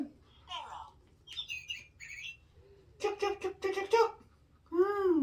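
Electronic sparrow chirps come from a button on a farm animal sound book, a few short bright tweets and warbles in quick bursts with gaps, followed by a rising whistled call, close and moderately loud.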